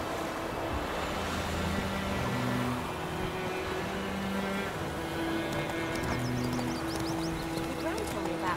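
Roach the horse gallops in The Witcher 3 with steady, rapid hoofbeats clopping beneath a soft ambient game hum, moderately near and continuous throughout.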